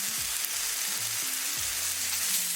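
Seasoning of salt, black pepper, red chili flakes and parsley flakes being stirred through a hot skillet with mushrooms, giving a steady, close sizzle with soft scraping strokes and a low background hum.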